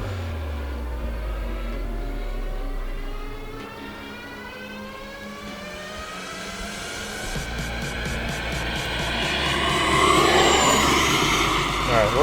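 E-flite F-18 Blue Angels 80mm electric ducted-fan RC jet at full throttle, a rising whine that climbs and swells louder toward the end as the model passes close, with steady wind noise throughout.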